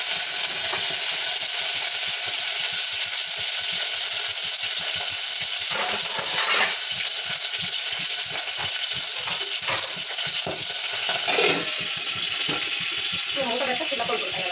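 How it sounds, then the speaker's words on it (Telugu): Green chillies fry in a hot pan with a steady, loud hiss and sizzle throughout, broken by occasional crackles and light clinks of a utensil. "ఫ్రై చేసుకుందాం."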